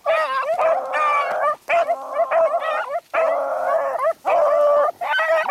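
Several beagles bark and howl together in long, wavering bursts, close and loud, with brief pauses between the drawn-out cries.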